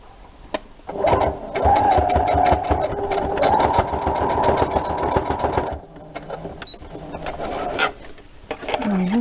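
A sewing machine stitching a backstitch on a t-shirt, with a loud rapid motor buzz running for several seconds, a short pause, then a quieter second burst, close up.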